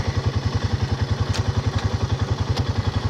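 A Jeep Rubicon four-wheeler rolling slowly forward, its engine giving a steady, rhythmic chugging pulse with occasional light clatter, close and fairly loud, with no speech.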